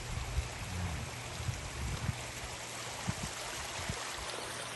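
A strong mountain stream fed by melting snow near Grassi Lakes, Alberta, rushes steadily as a faint, distant wash of water with occasional small splashes and no talking.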